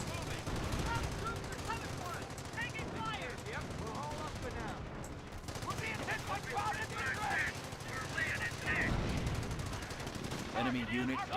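Machine gun nest firing in Company of Heroes, sustained bursts of automatic gunfire mixed with other battlefield shots, running continuously under excited talk.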